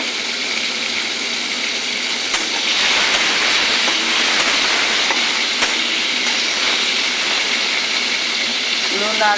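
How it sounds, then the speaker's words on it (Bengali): A steady, loud hiss of taro stems frying in oil runs unbroken throughout, with faint occasional clicks and a voice barely audible in the background. "আমি লুনাটা একটু হালকাভাবে ভাজা করে নেব"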